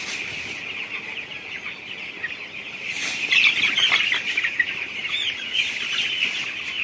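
Flock of 13-day-old broiler chicks in a poultry shed, a continuous dense chorus of overlapping cheeping and clucking with occasional wing flaps, steady and fairly loud throughout.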